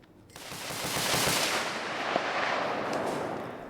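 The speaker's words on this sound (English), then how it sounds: "The sound of gunfire is familiar to many people here" Sustained rolling gunfire in the distance in the Democratic Republic of Congo, a dense crackling barrage that swells and lingers, heard alone without voices.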